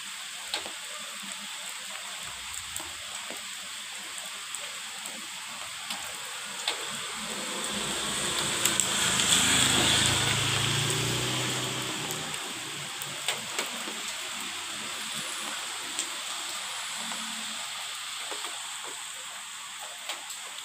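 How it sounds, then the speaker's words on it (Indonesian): Rain falls steadily at a hillside village in Tawangmangu, a continuous hissing wash with scattered drip ticks that swells louder midway before easing back, with no voices. "Hujan-hujan."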